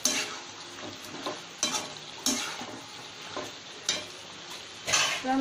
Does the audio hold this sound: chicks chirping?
no